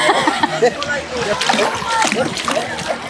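Child splashing water while learning to swim at a beach, kicking with their legs: continuous close splashes and sloshing, with an adult talking throughout.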